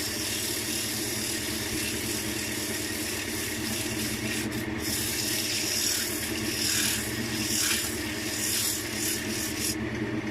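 Steady, continuous rasping friction of sandpaper hand sanding oak wood for a small ashtray, close up, with a constant low hum underneath and no pauses.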